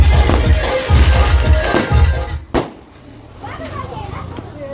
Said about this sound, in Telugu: టపాసులు మోతం